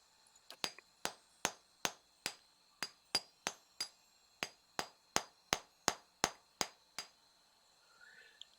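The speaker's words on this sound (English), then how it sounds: "Use a hammer and chisel to clear the way." Hammer and chisel striking a boulder in Pillars of Eternity, about eighteen sharp metallic taps at a steady, regular pace, clear and alone over a faint ringing background.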